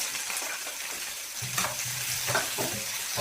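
Garlic sizzles in hot coconut oil with mustard seeds and dried red chillies for a seasoning, making a steady, close frying hiss. Stirring scrapes break in now and then, with no talking.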